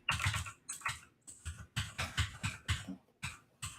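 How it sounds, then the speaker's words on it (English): Someone types on a computer keyboard close to the microphone, with quick bursts of key clicks and short pauses, and no other sound. "then I'll start typing away"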